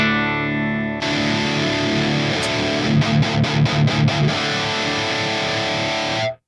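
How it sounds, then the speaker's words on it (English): Electric guitar on an HX Stomp XL modeler jumping from a clean tone to a heavily distorted one, sustained saturated chords with a burst of rapid rhythmic chugging in the middle, ringing out before stopping. "when I hit the snapshot for the distorted tone, it's going to change all these blocks and take my tone from clean"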